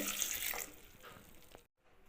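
A glass of water is poured into a pan, splashing steadily for about a second and a half, close and fairly loud, then cutting off into brief quiet.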